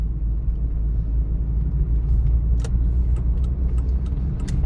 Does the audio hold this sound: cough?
no